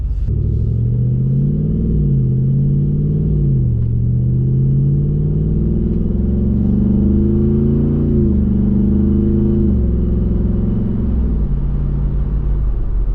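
A Jeep Wrangler 392 V8 with an AWE Tuning exhaust in quiet mode rumbles loud and close, its deep idle rising and falling through several gentle revs, alone without voices.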